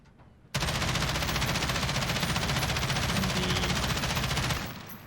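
Sustained automatic fire from an M13 rifle aimed at a target in Call of Duty Modern Warfare, a dense, rapid, even stream of shots. It starts abruptly after a short quiet lead-in and runs about four seconds before cutting off.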